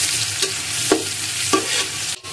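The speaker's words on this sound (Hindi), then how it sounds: "प्याज हम हल्का ब्राउन कर लेंगे" Finely chopped onions frying in cooking oil for potato pulao, a steady sizzle with a few soft stirring scrapes spaced through it, close and fairly loud, no voices.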